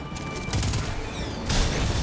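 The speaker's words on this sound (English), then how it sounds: "Auto rifle. Auto rifle feels right." Sustained automatic rifle fire from an auto rifle in the shooter game Destiny 2, a dense, rapid burst of shots running throughout with a louder surge near the end.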